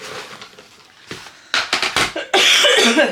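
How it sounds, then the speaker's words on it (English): Several harsh coughs, close and loud, coming in short clusters after a quieter stretch, the last one longer and rougher. "sorry, I'm coughing."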